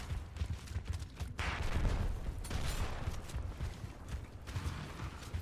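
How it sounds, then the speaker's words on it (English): Shotgun blasts ring out during a competitive Gears of War esports match, a quick series of sharp bursts mixed with mechanical clatter and scraping, fairly faint overall. "And now we hear shotgun shots going out."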